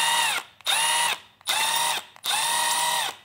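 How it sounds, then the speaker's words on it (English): A motorcycle kickstand's four mounting bolts are worked loose with a power tool, giving four whirring bursts, each about half a second long, with short gaps between them, close and clear. "to adjust it, you go ahead and loosen the four bolts"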